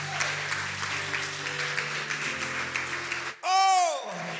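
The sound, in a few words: congregation applauding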